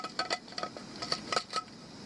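A pan being fitted onto a small Chinese camping gas stove, a series of light metallic clinks and taps as the metal parts settle against each other, close and fairly quiet.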